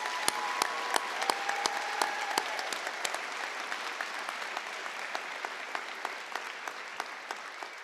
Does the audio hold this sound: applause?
yes